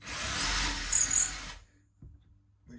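A power drill bores out the neck screw holes of a cheap learner Stratocaster-style guitar, giving one steady whirring burst for about a second and a half before stopping, followed by a couple of faint knocks.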